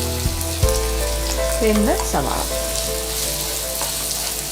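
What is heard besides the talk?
onions frying in pan with garlic, ginger, green chili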